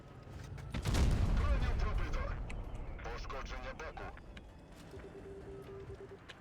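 Tank cannon fire in World of Tanks Blitz with the WZ 111 model 5A: one heavy blast followed by a rumbling decay and some lighter mechanical clatter, with someone speaking over the game sounds.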